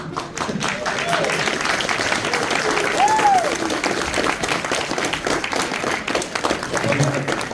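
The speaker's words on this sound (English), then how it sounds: "Welcome a round of applause for our poutine" A crowd at a pony fan convention applauds a performance, steady clapping filling the room at close range while voices and a brief cheer rise over it.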